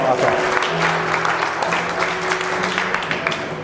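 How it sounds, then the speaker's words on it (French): An audience claps for someone at a motivational talk, scattered but lively applause with distinct individual claps, while a voice and some tonal murmur run underneath. "On peut l'applaudir."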